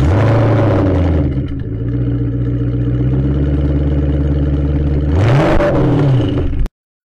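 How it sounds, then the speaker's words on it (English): Revving Maserati 3200 GT twin-turbo engine sound played back from a 1/18 Bburago die-cast model, a loud, steady engine drone with rising revs near the end before it cuts off abruptly. "here's what the Maserati 3200 GT sounds like when those turbos get going"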